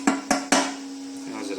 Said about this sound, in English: Slag's chipping away easier, at least.